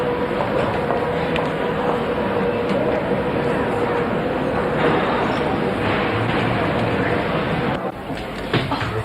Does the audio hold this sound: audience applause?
no